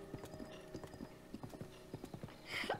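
A horse's hooves drum along steadily at a gallop in Zelda: Breath of the Wild, an even, repeating clip-clop rhythm heard fairly close and alone, ending with a brief higher whinny-like sound.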